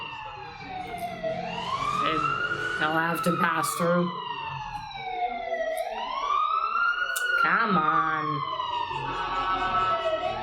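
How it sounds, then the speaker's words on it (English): An ambulance siren wails in slow rising and falling sweeps as it passes outside, steady and fairly prominent, while a person talks briefly over it. "I think it's an ambulance."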